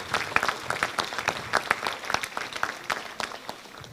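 An audience at a mayor's 2023 New Year address to residents of Ardenne Métropole breaks into sustained applause, a dense wash of many hands clapping steadily throughout, moderately loud and even without any voices.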